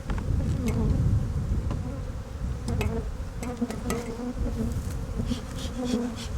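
Honey bees buzz densely and continuously around a hive, a thick droning hum with individual bees whizzing past close by.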